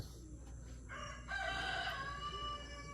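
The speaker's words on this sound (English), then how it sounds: "The roosters, I doubt they'll ever get countrified, or maybe that is a countrified rooster." A rooster crows once at moderate distance, its call rising and holding over a steady low background hum.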